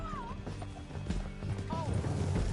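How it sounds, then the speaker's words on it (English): Horse hooves clip-clop at a gallop in the Red Dead Redemption 2 video game, a steady pounding rhythm under game music, shouting voices and a brief whinny. "Get him on your horse. Down the canyon. Let's ride!"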